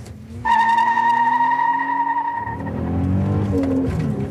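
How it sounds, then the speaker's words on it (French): A 2006 Infiniti G35 with a six-speed transmission launching from 0 to 100 km/h on a track, its engine revving loudly and climbing in pitch, then dropping as it shifts gear and pulls again. "On va faire un 0-100 km/h pour commencer."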